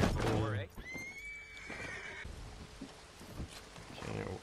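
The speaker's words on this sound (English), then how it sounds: "Sometimes the horses in this game can be a little derpy." A horse in the Red Dead Online video game whinnies loudly, a long high neigh in the first second or so, followed by quieter hoof and movement sounds with faint speech underneath.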